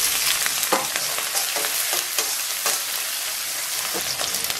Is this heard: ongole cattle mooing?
no